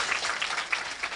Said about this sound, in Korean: 박수 주시고요